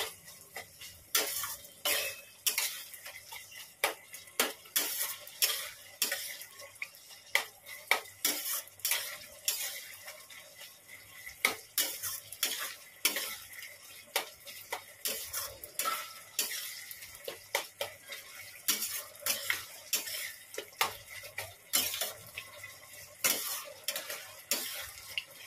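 Water lily stems cook in a pan, stirred with repeated scraping and clinking of a utensil against the metal under a soft steady simmer, close and unhurried over a long stretch without talk.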